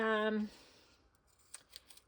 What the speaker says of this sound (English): I'm just using my pinking shears.